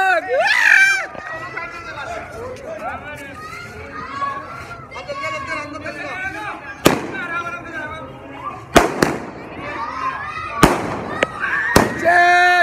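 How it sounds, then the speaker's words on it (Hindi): Sky shot fireworks at an Ayodhya Ram Mandir celebration, several sharp loud bangs and crackling bursts scattered over a busy outdoor crowd with children and people talking nearby. "भाई स्काई शॉट में लग गई"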